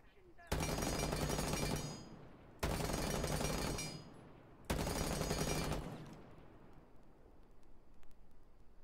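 Suppressed automatic gunfire from a Rainbow Six Siege video game weapon rattles in three sustained bursts of roughly a second and a half each, loud and close, separated by short pauses, with faint background noise after.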